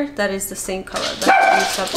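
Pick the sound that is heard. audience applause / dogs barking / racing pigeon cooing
dogs barking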